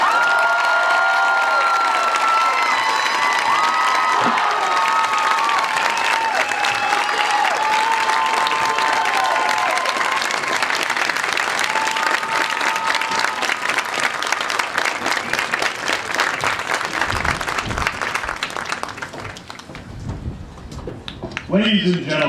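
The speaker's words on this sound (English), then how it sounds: "May I have a final round of applause for all these wonderful competitors and fans?" Crowd at the 2013 State Marching Band Championship gives a long, loud round of applause with some cheering, sustained and dense for about twenty seconds before tapering off at the end.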